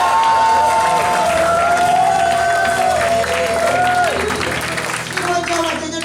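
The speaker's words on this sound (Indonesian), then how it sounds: "Saudara sorak haleluya" A church congregation at a Sunday service cheers and shouts hallelujah, a loud crowd roar with clapping and raised voices, while a sung or sustained tonal voice weaves through the noise.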